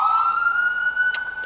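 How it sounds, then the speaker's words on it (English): An ambulance siren tested from a steering-wheel button, giving a brief close electronic wail that sweeps upward and then holds, with a sharp click near the end. "the hands-free option to come to my steering wheel, press it, and it will rotate between different sirens."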